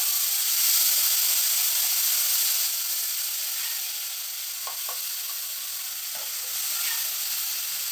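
Onion, garlic, mustard and tomato paste frying in hot oil in a pan, a steady bright sizzle and hiss throughout with a few faint clinks of stirring.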